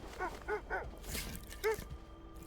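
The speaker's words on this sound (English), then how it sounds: "Quiet, dogs." Dogs in the video game Kona give a few short whimpering yips and soft barks, quiet and spaced apart over a low background hum.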